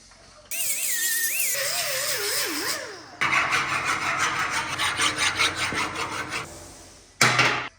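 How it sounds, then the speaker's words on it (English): A warbling, wavering tone gives way to rhythmic rasping strokes of abrasive sanding against a Shovelhead motorcycle frame, repeated back and forth, ending with a short burst of noise. "Sanding time."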